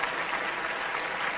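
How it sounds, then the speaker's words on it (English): A crowd applauds with steady, dense clapping throughout, moderately loud and continuous, with no speech over it. "So here's one more round of applause for you guys."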